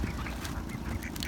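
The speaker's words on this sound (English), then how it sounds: "how about the ducks?" Ducks quacking while being fed at a pond, a busy overlapping chorus of nearby calls with steady background noise and no speech.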